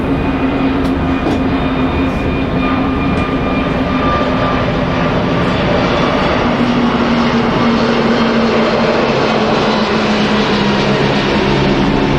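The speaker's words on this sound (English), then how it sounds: "Oh, and there's a plane" An airplane flying overhead near a Mediterranean cruise port, a loud, continuous engine roar and rumble that stays steady throughout with no talk over it.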